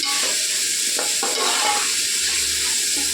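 Cabbage and capsicum frying in hot oil for veg fried rice, a loud continuous sizzle with a few scraping stirs against the pan, close and steady throughout.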